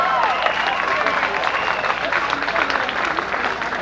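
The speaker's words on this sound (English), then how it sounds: "The cheering fans are in heat" Crowd of fans cheering at a 1989 lesbian and gay pride parade in Philadelphia, a dense wash of shouting and applause that stays steady and loud, with scattered voices mixed in.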